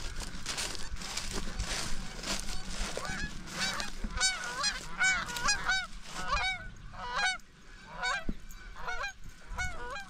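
A flock of geese on a farm honks repeatedly, loud nasal calls in quick irregular bursts over outdoor background noise, as a dog goes after them.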